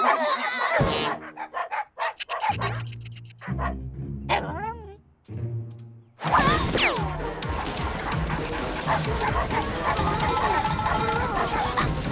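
In a cartoon, dogs bark and yip in quick bursts with music and effects around them, followed by a dense, busy stretch of mixed sound.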